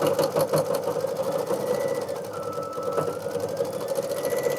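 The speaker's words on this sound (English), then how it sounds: "Some pretty intense embroidery going on right there." A Kimberbell mug rug design being stitched by an embroidery machine gives a steady, close mechanical whir with fast rhythmic needle pulses, running continuously with no talking.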